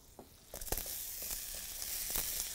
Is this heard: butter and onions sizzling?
yes